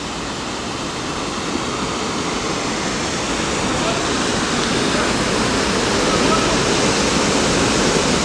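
Warren Falls waterfall and river gorge in Vermont roar as a steady, loud broadband rush of falling water that swells slightly over time, with people present nearby.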